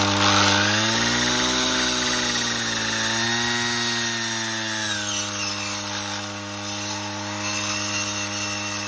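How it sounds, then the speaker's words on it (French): A brush cutter fitted with a saw blade cuts small-diameter wood, its engine droning loud and steady throughout, the pitch sagging as the blade bites and then holding lower, close and continuous with no voices. "Bien sûr, on utilise cette lame sur des petits diamètres de bois à couper."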